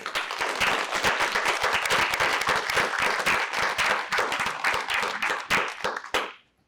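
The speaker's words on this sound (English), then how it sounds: "I would love to have another round of applause for our 2 award winners." An audience at a meeting gives a loud round of applause for two award winners. Many hands clap densely with some sharp individual claps standing out, then it cuts off quickly.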